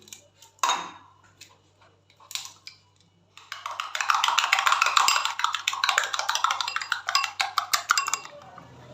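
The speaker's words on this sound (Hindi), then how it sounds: "इसके अंदर हम 2 अंडों को तोड़ लेंगे" Two eggs cracked into a bowl for vegetable cutlets: two sharp cracks a second or so apart, a pause, then a long run of quick, rhythmic clinking strokes as they are beaten, close and fairly loud.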